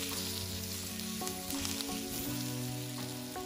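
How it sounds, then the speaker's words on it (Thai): Mixed vegetables stir-fried in a pan with garlic and black pepper, a loud continuous sizzle punctuated by scraping and clinking of the spatula, with no voices. "เมื่อปรุงรสเสร็จแล้วเราก็ผัดส่วนผสมให้เข้ากันจนกระทั่งผักทุกอย่างสุกหมดค่ะ"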